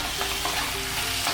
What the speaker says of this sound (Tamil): எல்லாத்தையும் மசாலாலாம் சேர்த்ததுக்கப்புறம் நம்ம வதக்கி விட்டுக்கலாங்க